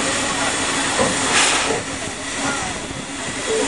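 Steam hissing from a sugar cane train's steam locomotive, a loud, broad, continuous hiss that swells briefly and then settles, heard close by.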